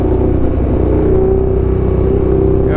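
A KTM Superduke 1290R motorcycle engine runs loud and steady close by, a continuous throaty drone with a strong low hum and no pause throughout.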